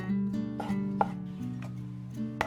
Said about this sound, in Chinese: 泡好的香菇我们就切丝。